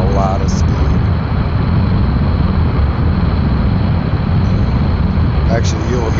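Jet engines roar steadily in the Kerbal Space Program video game during an X-Wing style craft's flight, a loud continuous broadband rumble with brief tonal shifts as the engines switch over.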